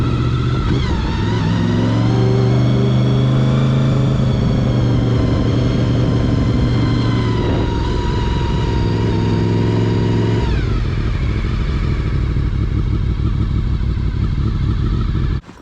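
A motorcycle engine revs up loudly and close by, its pitch climbing, then drops briefly at each upshift before pulling again through the next gears.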